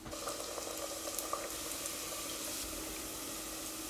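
Schmalzgebäck dough pastries frying in hot oil give a continuous, even bubbling hiss, soft and close with faint crackles, with no voices.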